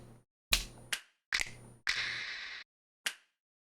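Short snap and clap samples auditioned one at a time in Maschine drum software: several sharp, isolated hits separated by silence, one carrying a longer reverb tail, all clean with no talking.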